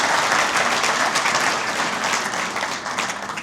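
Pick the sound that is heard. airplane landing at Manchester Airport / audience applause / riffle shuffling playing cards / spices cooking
audience applause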